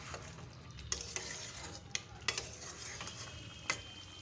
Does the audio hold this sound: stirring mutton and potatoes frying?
yes